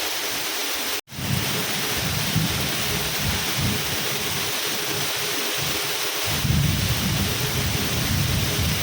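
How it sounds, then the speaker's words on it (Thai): A heavy mountain thunderstorm pours steadily, its loud dense rain roar briefly cut off near the start. Deep rumbling swells underneath, growing stronger toward the end, with no voices. "นี่ฝนเริ่มเบาบางแล้วนะ"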